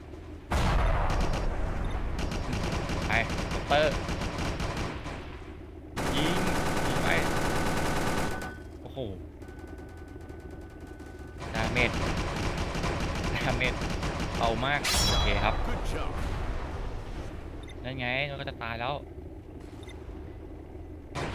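Bursts of rapid machine-gun fire from an M2 Bradley in the tank game Clash of Panzer, in repeated dense volleys with engine rumble, while a player talks over the action.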